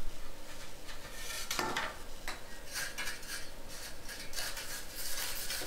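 A steel trowel scrapes and smooths damp mud mortar across a shower floor bed, giving a continuous gritty rubbing with a few sharper swipes, close and steady, with no voices.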